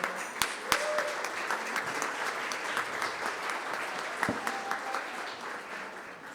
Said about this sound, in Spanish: Un aplauso también para los chicos.